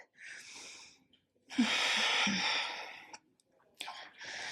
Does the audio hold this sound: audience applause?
no